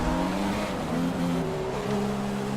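F1 race cars in the F1 2016 video game roar past on the Monaco or Bahrain circuit, with a steady, loud, high-revving engine whine that shifts pitch as the cars pass one after another.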